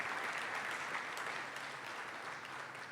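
Steady applause from a dinner audience fills the room, a dense, even wash of clapping that holds at constant strength throughout with no voices above it.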